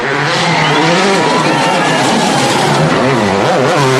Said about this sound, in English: he powers the C4 downhill all the way to the finish